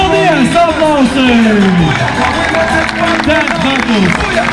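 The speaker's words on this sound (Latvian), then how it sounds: "Aplausi!" An audience at a street dance battle claps and cheers in a loud, continuous wash of crowd noise, with shouting voices and a whistle-like sliding tone rising over the applause.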